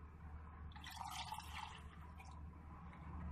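Water is poured into a glass container, a soft trickling, splashing fill lasting a couple of seconds, faint and close against a quiet room hum.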